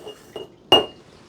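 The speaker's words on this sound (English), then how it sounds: "Now I'm going to add 30 grams of rice into both jars with the broth." Glass jars of broth clink sharply as rice is added for a cordyceps nutrient medium: two soft taps followed by one louder, ringing clink, close by and without speech.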